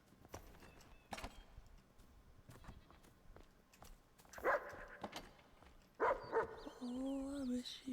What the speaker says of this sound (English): Oh, I wish you would stop barking